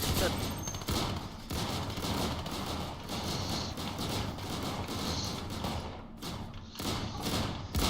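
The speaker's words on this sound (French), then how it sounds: "Y'a des mecs qui se canardent en dessous." Dense bursts of gunfire from the online shooter game Island of Nyne, with rapid volleys and thuds heard continuously at moderate volume.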